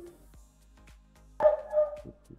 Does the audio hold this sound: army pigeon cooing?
no